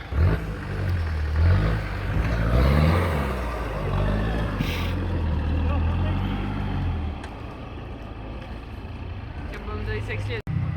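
An off-road vehicle, just set back on its wheels at an off-road season opening, revs and drives off, a loud rising and falling engine drone that eases as it pulls away while people talk over it.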